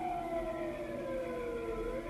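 Emergency sirens wail at a distance, their steady tones sliding slowly downward over a low background hum.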